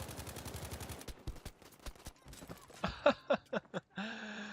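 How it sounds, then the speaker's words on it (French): Battlefield V gameplay with machine gun fire: a fast rattling burst at first, then scattered single shots and louder bangs, ending in a sustained tone, all fairly faint. "puis la mitrailleuse aussi, sérieux, faut qu'ils arrêtent avec la mitrailleuse quoi"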